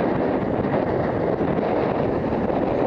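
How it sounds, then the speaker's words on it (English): Wind buffets a microphone on a fishing boat out on the Solent, a loud, continuous rumbling roar that never lets up, with no voices. "Sorry about the wind noise."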